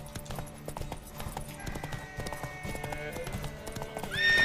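Horse hooves clip-clopping at a gallop in The Witcher 3: Wild Hunt during a race, steady rhythmic hoofbeats close by, ending with a loud neigh.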